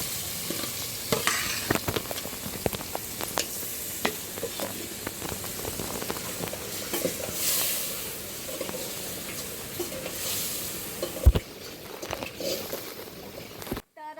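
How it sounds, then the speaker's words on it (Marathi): Chicken fries in hot tempering oil with loud, steady sizzling and hiss, broken by scraping stirs and clinks of a spoon against the pan, close up. "आता चिकन मस्तपैकी फोडणीक टाकता मम्मी."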